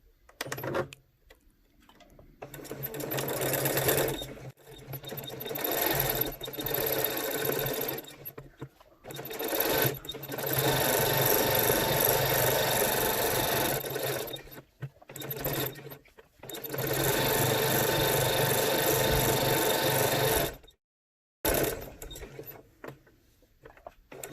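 A sewing machine stitches fabric in repeated bursts of rapid whirring with short pauses between runs, including backstitching, close and fairly quiet.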